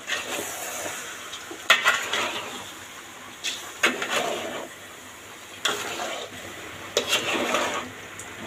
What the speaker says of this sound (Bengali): এখন একটা লাড়া দিয়ে পানি দিয়ে দিব